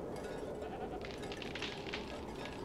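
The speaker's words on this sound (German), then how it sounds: "Hey, ihr habt Ziegen." Goats bleat faintly in the fantasy video game Drakensang: Am Fluss der Zeit, a couple of soft, distant calls over a steady low ambient backdrop.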